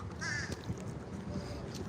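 A crow caws once from a tree in a lakeside city park in downtown Orlando, a short harsh call over steady outdoor ambience and distant traffic.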